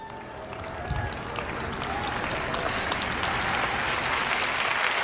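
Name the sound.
audience applauding at sermon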